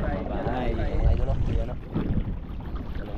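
A motorized outrigger boat with a large engine drones steadily, close up, with wind buffeting and people talking over it as the boat passes houses along the shore.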